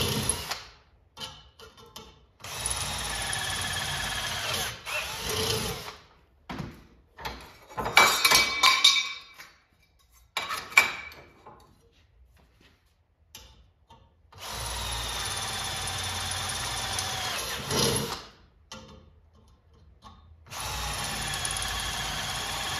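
A power drill bores into an arcade cabinet in several separate bursts as the bit size is stepped up, each a loud whining spin lasting a few seconds, with clunks and handling noise in the gaps between.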